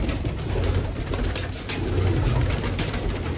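Pigeons coo softly amid a dense, noisy background of rustling and hiss, the calls low and muffled rather than distinct.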